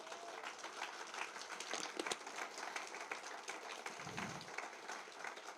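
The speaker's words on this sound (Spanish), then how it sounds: "Dale fuerte el aplauso al Señor." A church congregation applauds, a dense wash of clapping that carries on steadily, with a few louder claps and a faint voice or thump underneath.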